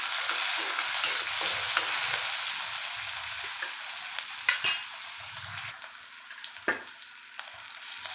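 Onion sizzles in hot oil already crackling with cumin, mustard seeds and crushed garlic, a loud, steady hiss broken by a few stirring scrapes and knocks.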